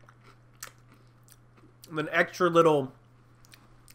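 Crunchy chewing of a chocolate-chip Oreo cookie, with a short close burst of crisp biting and munching in the middle and a few soft words spoken just before it.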